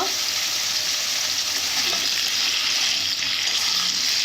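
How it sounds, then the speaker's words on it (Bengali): Potato pieces frying in hot oil for a crab curry, a loud, continuous hissing sizzle that stays even throughout with no voices. "এর জন্য আমি আলুগুলো ভালো করে ভেজে নেব"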